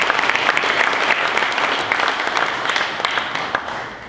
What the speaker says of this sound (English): So let's give you a round of applause.